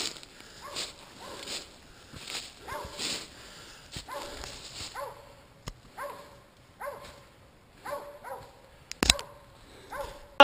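A dog barks repeatedly at squirrels up in the trees, a rhythmic run of moderately distant barks and yips roughly every half second, with occasional sharp knocks and rustling in between.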